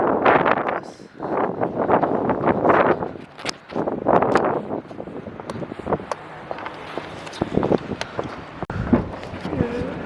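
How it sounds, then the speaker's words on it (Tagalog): Strong wind during a winter snowstorm in Hokkaido roars in heavy gusts against the microphone, easing and surging, while a person speaks over it and footsteps crunch through the middle. "Nasaktuhan pa ako sa snowstorm ata ah."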